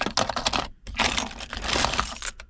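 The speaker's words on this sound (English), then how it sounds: "a bunch of keys." A bunch of keys jangling and clinking, pulled from a flooded salvage BMW M4, in a close, bright burst of metallic rattles with a short pause in the middle.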